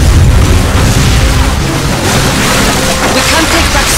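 Heavy artillery blasts and rumbling booms in Call of Duty: Finest Hour's Stalingrad battle, a loud, continuous low roar filling the scene with faint voices underneath.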